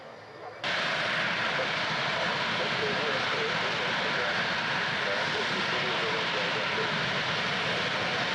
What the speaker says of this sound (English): the second of the 2 Jaguars, taxiing down the runway now